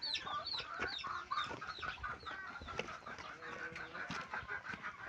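A mother hen clucks among her newly hatched chicks, whose high, rapid peeping runs almost continuously over her lower calls in a close, busy farmyard scene with no talking.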